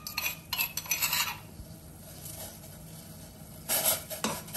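A metal spoon stirs crushed turmeric, ginger and black pepper into boiling water in a pot, giving several bright clinks and scrapes in short bursts separated by quieter bubbling.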